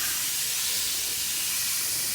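Insecticide being sprayed over a garden on a Friday afternoon: a steady, close, loud hiss of spray running unbroken throughout, with no talking.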